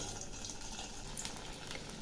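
Pointed gourd (kakrol) pieces drop into hot oil in a kadai, giving a steady, dense sizzle that hisses evenly and without a break from start to finish.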